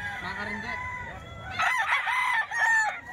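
Roosters and hens kept as poultry for sale crow and cluck loudly and close by. One bird crows a sustained call over steady clucking, and then more crowing follows from the flock.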